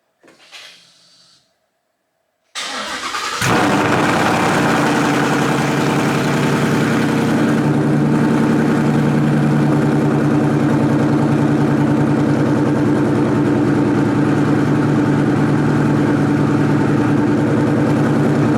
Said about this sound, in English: let's see if we can get this car started and take it down the road